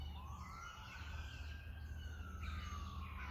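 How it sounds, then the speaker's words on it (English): Emergency vehicle sirens wail outdoors at a distance, a rising and falling tone sweeping over steady background rumble. "of course we have the sirens going"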